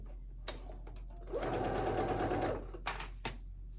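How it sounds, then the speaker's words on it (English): A sewing machine stitches pockets onto a summer halter maxi dress, running in one steady burst of about a second between soft handling clicks and taps. "go ahead and finish sewing on the pockets, right side facing"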